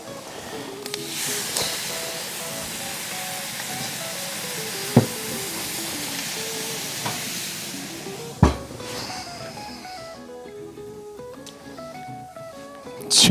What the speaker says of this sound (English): We're going to put some wine on to form some steam.